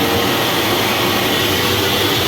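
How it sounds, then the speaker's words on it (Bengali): A hand dryer running in a train toilet, giving a loud, steady, close rushing roar with no break and no talking. "এখানে রয়েছে হ্যান্ড ড্রায়ার"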